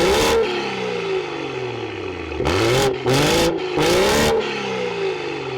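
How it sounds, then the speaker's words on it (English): A BMW M140i with a Remus exhaust revs hard, then blips sharply three more times in quick succession, its loud exhaust snarling up and settling back to idle. "This is a Remus exhaust and it sounds absolutely amazing"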